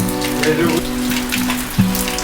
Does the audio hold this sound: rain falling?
yes